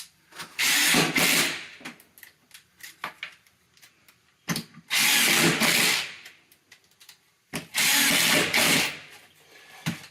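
A power drill drives screws into bathroom floor framing in three loud bursts, each winding up for about a second or two, separated by quieter pauses with faint handling knocks.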